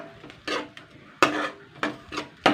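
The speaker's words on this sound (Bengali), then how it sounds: "এইভাবে হালকা মিডিয়াম আঁচে কিন্তু এটা নাড়াচাড়া করতে হবে" Fish roe is stirred with fried onions in a pan over low-medium heat, several distinct scraping clinks of a utensil against the pan in an irregular rhythm, close and fairly quiet, with no talk.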